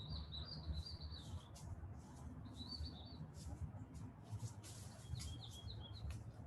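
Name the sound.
birds singing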